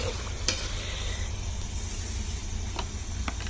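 Spinach added to a pan with whole chopped tomatoes sizzles steadily while a spoon stirs, with a few sharper scrapes and clatters over the continuous frying hiss.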